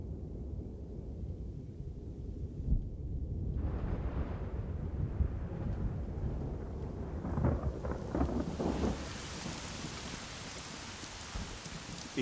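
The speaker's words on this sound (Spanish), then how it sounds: "Sobre el Masai Mara, las tormentas de otoño se aproximan." An autumn thunderstorm over the Masai Mara in Kenya pours steady rain, with a deep rumble of thunder rolling through the middle and the downpour growing heavier and hissier toward the end.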